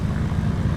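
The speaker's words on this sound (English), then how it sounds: "Goodness, plane." An airplane, tied to a Douglas World Cruiser flight from Chignik to Dutch Harbor, flies nearby as a loud, steady low propeller-engine drone with a broad rumbling roar and no voices.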